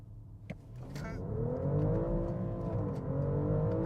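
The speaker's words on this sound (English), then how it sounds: "I keep hitting the rev limiter, but yeah, this thing can scooch." A 2025 BMW X5 xDrive50e plug-in hybrid accelerating hard in first gear, its engine note climbing steadily in pitch toward the rev limiter, dipping briefly, then rising again, heard from inside the cabin with no talking.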